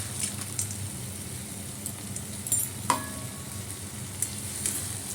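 Ghee and fried lentil dumplings (bori) sizzling in a pan while papaya curry cooks, a soft, steady frying hiss with faint stirring clicks and one brief sharp knock near the middle.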